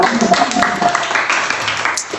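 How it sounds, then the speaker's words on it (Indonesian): Students in a classroom clap together in a short, loud round of applause, with a few voices mixed into the dense patter. "Ya, tepuk tangan dulu ya."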